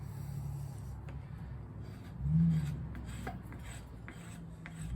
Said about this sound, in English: I'll take it off real quick with the scraping grip